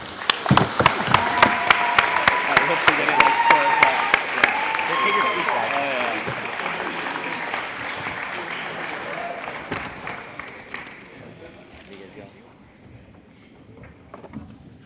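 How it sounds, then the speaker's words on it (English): A crowd at an athletics awards ceremony claps in sustained applause, loud at first and gradually thinning out over about fifteen seconds, with a few voices faintly underneath. "give our coaches a huge round of applause"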